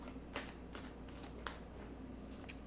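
Tarot cards are handled and drawn: quiet, close papery rustling with three sharper flicks spaced about a second apart over a faint low hum.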